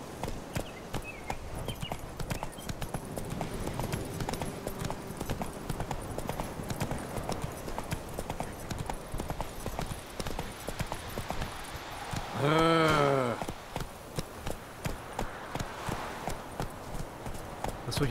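Horse hooves clip-clop at a steady riding gait in The Witcher 3, a quick even rhythm running throughout, with a loud whinny partway through.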